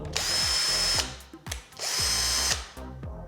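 A budget cordless impact drill whirs at high speed in two loud bursts of about a second each, close up, separated by a short pause, with no talking.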